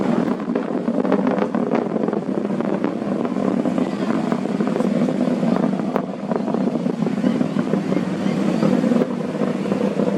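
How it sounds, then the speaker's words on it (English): Loud, steady SpaceX Starship SN15 rocket engine roar rumbling continuously with wind buffeting the microphone, a broad sustained drone without pause. "Listen to those engines."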